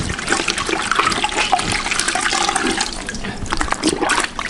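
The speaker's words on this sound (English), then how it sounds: "Put it in the rinse bucket. Let's wring it out a little bit." A car-wash mitt is wrung out into a rinse bucket, giving a steady, close splashing and trickling of water that runs for several seconds without a break.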